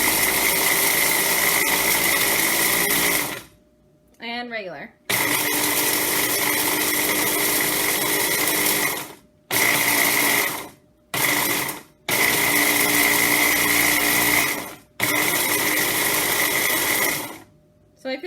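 Mueller Austria Smart Stick 800W hand blender shredding coconut, its loud whirring motor running in long bursts through turbo and regular speeds, broken by short pauses with a brief spoken word.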